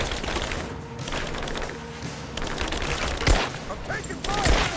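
Rapid gunfire from a firefight in the video game Rise of the Tomb Raider, dense bursts and sharp shots layered with clattering impacts and debris, two heavier blasts near the end, with shouted voices mixed in throughout.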